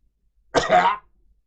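One short, rough cough, close and sudden, in otherwise near silence.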